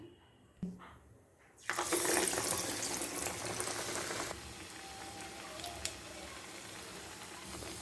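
Masala vada patties drop into hot oil after a couple of soft taps, then a loud, hissing sizzle of deep-frying swells up and settles into a steady, crackling bubble.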